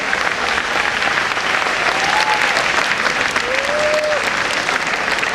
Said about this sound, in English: please have a huge round of applause for them once again